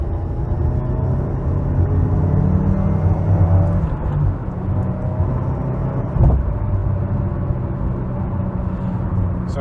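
Inside a 2015 Subaru WRX, the engine rumbles loudly and continuously while it revs up and down during heel-toe downshifts, with brief swells in pitch and a short mechanical clunk partway through.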